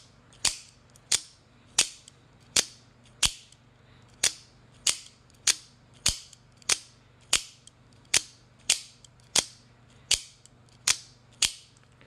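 An AKC F-16 out-the-front knife fires its blade over and over, each sharp metallic snap arriving at a steady, roughly even pace, about sixteen clicks close to the mic with no talking.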